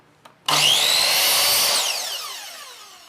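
A circular saw whines up sharply and bites through wood at a 30-degree angle cut, a loud sustained high-pitched cut that slowly fades as the blade winds down.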